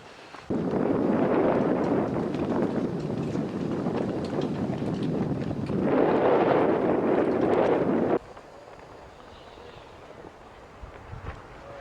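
Wind buffeting a microphone outdoors on a breezy day in New York, loud broadband rumbling gusts that swell and ease for about eight seconds, then drop to a quieter hiss of background air with no talking.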